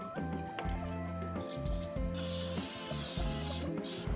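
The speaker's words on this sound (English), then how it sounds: "I use this spray, okay? The 0-calorie spray." A can of zero-calorie cooking oil spray hisses in a short burst over a cooking setup, under a steady background hum and scattered kitchen clatter.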